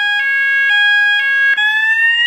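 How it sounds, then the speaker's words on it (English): A school alarm sounding its evacuation tone: loud, electronic, harmonic-rich tones that repeat in short pulses, then shift to a rising sweep, with no talk. "There's your evacuation tone"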